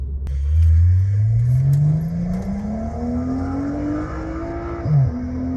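A BMW 335i of the F30 generation, tuned to about 400 hp, accelerates hard on a road, its engine note climbing steadily in pitch through the gears before a quick shift near the end, loud and close.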